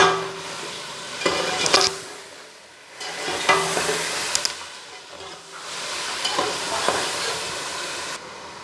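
Two tablespoons of ginger garlic paste sizzling and frying in a hot pan, with bursts of stirring and scraping that swell and fade in waves.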